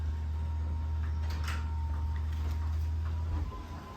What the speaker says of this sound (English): So we're closing the door.